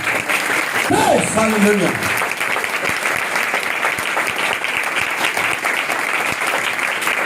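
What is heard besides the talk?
congregation loud applause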